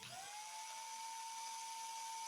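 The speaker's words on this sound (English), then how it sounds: "Locate and drill the airfoil and wood plug for screws." A small high-pitched drill whines steadily as it bores holes in a rotor blade airfoil and its wood plug, with the pitch rising quickly and then holding, close and fairly quiet.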